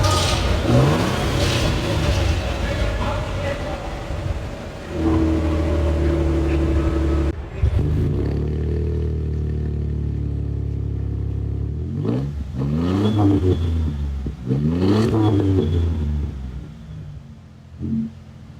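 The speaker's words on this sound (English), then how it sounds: "This is a Toyota TRD OEM exhaust." A 2024 Toyota Tundra Platinum iForce Max TRD Off Road with a TRD OEM exhaust, held at a loud, steady idle rumble and then revved several times, each rise and fall ringing close and deep.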